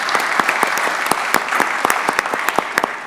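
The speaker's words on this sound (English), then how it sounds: "let's do that once again and give him another round of applause" An audience at a county board of commissioners work session applauds, a brisk run of sharp separate hand claps from a modest group, close and lively, without voices.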